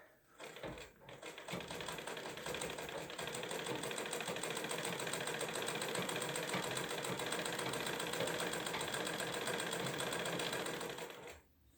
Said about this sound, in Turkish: Yerleştiriyoruz makinenin altına. Başlıyoruz dikmeye.